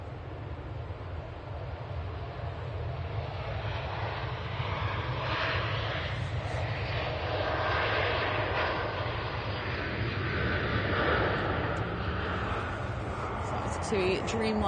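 A Boeing 787 Dreamliner departs Manchester Airport, its jet engines giving a broad, sustained roar that swells slightly midway and stays steady, heard from a distance in the open air.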